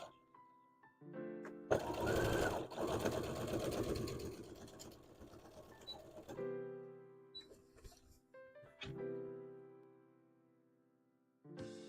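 A sewing machine stitches small tentacle pieces for a Toothless dragon hat, running in one long continuous burst and then a few shorter starts and stops.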